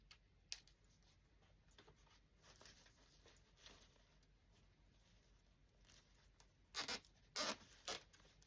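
A zip tie ratchets tight on a Valentine wreath in a few quick, sharp zipping bursts near the end, after a stretch of quiet, faint rustling.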